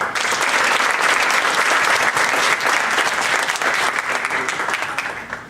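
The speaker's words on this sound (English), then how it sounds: "Can we have another round of applause for them?" A crowd at a youth leadership program finale gives the speakers another round of applause, a loud, sustained, even burst of many hands clapping that fades slightly at the end.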